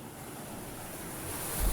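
Sea waves wash onto the shore in a continuous broadband hiss mixed with wind, swelling slightly louder toward the end.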